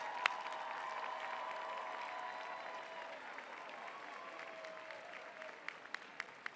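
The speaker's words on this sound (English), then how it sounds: "Give them a big round of applause." A commencement audience applauds nursing and health science graduates, a broad, sustained wash of distant clapping in a large hall with faint voices and a few sharper claps emerging near the end.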